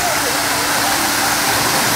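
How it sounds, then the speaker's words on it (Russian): An artificial waterfall splashes into a hotel swimming pool at the Oriental Nha Trang Hotel in Vietnam, producing a loud, steady, broadband rush of falling water that fills the whole moment without a break. "Здесь водопад."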